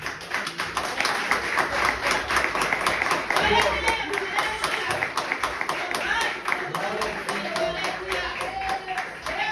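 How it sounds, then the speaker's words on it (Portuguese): A church congregation claps in a steady rhythm while a preacher keeps talking over the applause. "Você pode aplaudir por isso."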